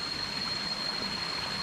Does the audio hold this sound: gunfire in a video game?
no